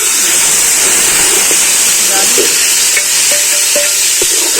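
Gravy masala of ground tomato, onion and green chili cooking in a pan, giving a loud, continuous, close sizzling hiss with faint stirring scrapes and no clear speech over it.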